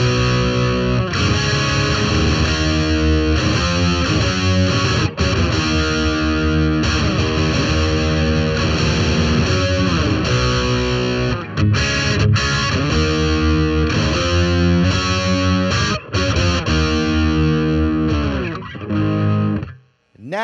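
A heavily distorted electric guitar plays the dense, driving main riff of a song continuously and loudly, with repeated chord patterns and brief breaks near the end.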